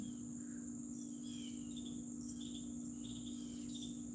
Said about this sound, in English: That little sound you're hearing is a Carolina wren.